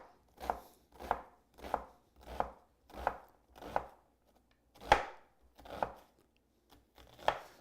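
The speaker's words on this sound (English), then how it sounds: "chopping your onion becomes very simple" Knife chopping an onion on a cutting board: about ten crisp, evenly paced chops in a steady rhythm with a brief pause before the last few, close and fairly quiet, no voices.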